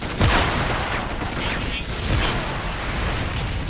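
Video game gunfire and sniper shots crackle in quick bursts amid a dense, noisy mix, with a player's voice talking loudly over the shooting.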